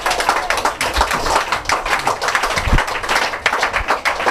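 A church congregation claps steadily and loudly to acclaim Jesus Christ, a dense continuous patter of many hands with faint voices mixed in.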